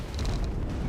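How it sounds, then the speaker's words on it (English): Massive explosion in the video game Action Taimanin, a short, loud, dense rumbling blast with crackling bursts, heard alone. "Just then a massive explosion erupted and he began to lose his footing."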